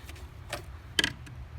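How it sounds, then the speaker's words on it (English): A 10mm socket wrench works a battery terminal nut on a 2017 Chrysler Pacifica's auxiliary battery, giving a few short, close metallic ratchet clicks. "I wasn't able to get there with the crescent wrench, so this is a 10mm socket"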